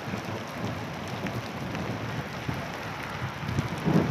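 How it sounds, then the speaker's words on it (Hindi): Heavy rain falls during a storm in a Pakistani village, making a steady, dense hiss of drops on surfaces. A few louder spatters stand out, and it swells slightly toward the end, with no speech. "बारिश थींदी पी है"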